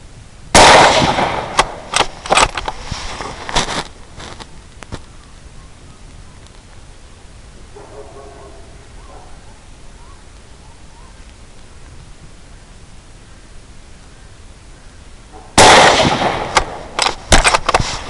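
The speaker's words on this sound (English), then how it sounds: "So, we'll just shoot a group" Rifle shots fired from a GSCI TI-GEAR S675 setup while zeroing a scope at 50 metres, heard as two loud clusters of sharp reports at the start and end with a quiet stretch between.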